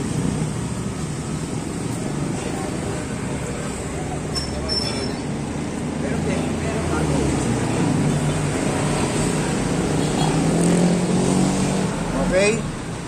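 A TMX155 motorcycle engine in third gear runs loud and close with a steady, rough, broadband roar that builds slightly toward the end, with no clear pauses.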